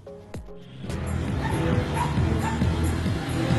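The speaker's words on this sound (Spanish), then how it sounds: "escuchó el llanto de un perrito que se encontraba en la alcantarilla" A puppy trapped inside a storm drain whimpers and yips, its thin cries rising over steady low background noise from a busy street at Banzer Avenue and Séptimo Anillo.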